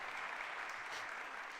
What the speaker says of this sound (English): you can clap, because we're looking forward to that.